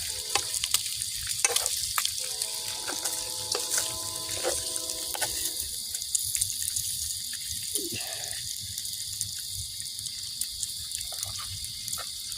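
Bacon frying in a pan, a full pound of it, giving a steady crackling sizzle close by with scattered pops and a brief low gurgle midway, no talking.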